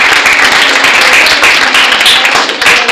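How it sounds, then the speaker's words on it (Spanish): A classroom group applauds the winning team of a quiz, a short loud wash of many hands clapping together, close and sustained for a few seconds. "Aplausos para el grupo."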